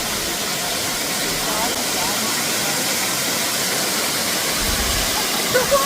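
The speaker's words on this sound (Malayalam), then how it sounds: "അത്യാവശ്യം ഉയരത്തുനിന്നാണ് വെള്ളം വീഴുന്നത്." Uroos Al Hada waterfall in Taif, water dropping from a considerable height, a steady loud broadband rush that fills the whole stretch without pause.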